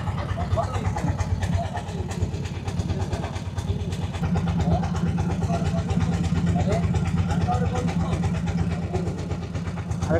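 A motor boat engine drones steadily and loudly as the boat pulls away, heading for the stone-strewn river at Bholaganj, Sylhet, a constant low rumble throughout with no clear speech.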